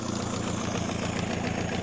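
A two-stroke outboard engine on an inflatable boat idles steadily after a hard start, giving a dense, even, buzzing drone that stays close and constant throughout.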